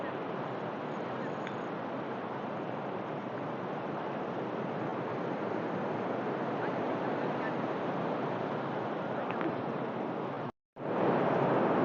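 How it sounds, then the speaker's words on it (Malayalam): A rough evening sea surges up onto the beach in a steady, unbroken roar of waves, close and loud, mixed with wind buffeting, and it cuts out briefly near the end. "വൈകുന്നേരം ആകുമ്പോൾ ഇതാ കടൽ കയറി വന്നുകൊണ്ടിരിക്കുകയാണ്"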